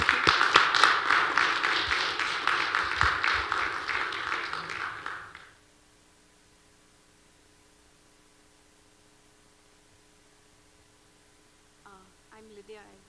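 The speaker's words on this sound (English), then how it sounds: "So let's have like an applause like for Emma." An audience at a blockchain systems presentation claps for a presenter, a dense, fairly loud burst of applause lasting about five seconds that then cuts off into near silence, followed by faint brief talk at the end.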